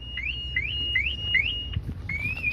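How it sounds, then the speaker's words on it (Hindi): The anti-theft alarm of a Toyota Glanza car sounds close and loud as a repeating electronic siren, chirping in rising sweeps with brief gaps between them. "तो बेसिकली ये एंटी थेफ्ट फीचर है जो कि टोयोटा ग्लांजा के अंदर आता है"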